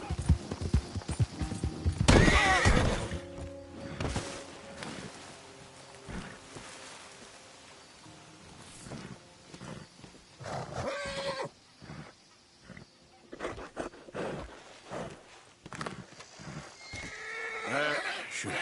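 A horse whinnies loudly with a shrill, wavering neigh, then hooves clip-clop in scattered, uneven bursts at fairly close range, with a second fainter whinny near the end and a person speaking briefly.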